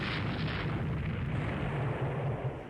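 A torpedo strikes a ship in the naval strategy game Rule the Waves 3, giving a continuous roaring explosion that stays loud and dense for nearly three seconds before tailing off slightly.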